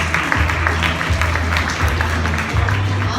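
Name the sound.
audience applause for speaker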